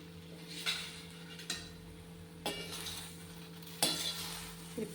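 Okra (ladies finger) stir-fried in a pan for bhindi masala fry: a quiet steady sizzle with four sharp spatula scrapes against the pan at irregular intervals, close by, no voices.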